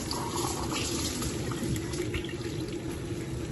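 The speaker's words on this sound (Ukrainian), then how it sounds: "Є ось кипячена вода, і я додаю." Boiled water poured into pilaf cooking in an Afghan kazan, a steady, continuous rushing splash with a hissing, bubbling texture, close and unbroken for the whole stretch.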